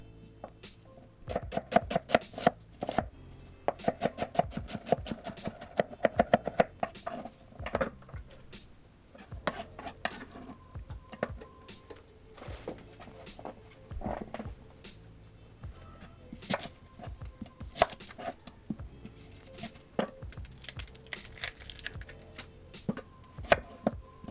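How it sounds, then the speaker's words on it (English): A knife chops an onion finely on a board, with rapid bursts of sharp, close knocks in an uneven rhythm and short pauses between runs of cuts. "I like to cut it up really small and just like toss it in there"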